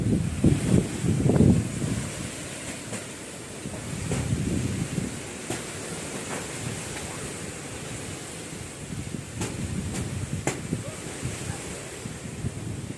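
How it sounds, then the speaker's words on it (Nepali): A strong windstorm blows outdoors, with a constant roaring rush of air that swells in rough gusts, loudest near the start and then settling into a steady, buffeting drone. "हावाहुरी कति ठुलो हावा लाग्यो।"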